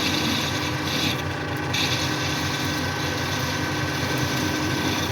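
A lathe or milling tool takes small dry cuts into the bearing housing of a Wheel Horse mower deck, giving a steady, close scraping and grinding rumble with a light rhythmic texture throughout.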